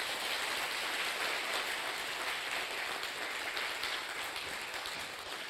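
A church congregation gives steady, even applause, a soft wash of many hands clapping that holds continuously for several seconds without voices.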